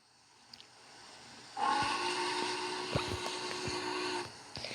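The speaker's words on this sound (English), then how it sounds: "we slowly blew the whistle on the Challenger" A Challenger steam locomotive whistle in a Roblox video game blows in one long, steady hissing blast over a low rumble, then cuts off abruptly.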